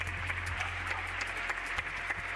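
Neighbours applaud from their homes across a quiet city block during the quarantine, where traffic would normally be heavy: a steady, distant wash of many scattered claps over a low hum.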